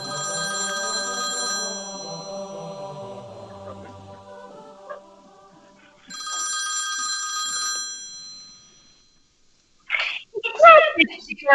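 A stage telephone in a theatre performance of the farce Noises Off rings in two long, loud bursts of bright electronic trilling separated by a pause, then a voice briefly speaks near the end.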